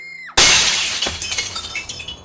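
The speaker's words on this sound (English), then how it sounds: "and more sounds of broken glass" Glass cucumber frames shatter in one sudden loud crash, followed by a scatter of tinkling, falling shards that fade away, with a short tonal note just before the impact.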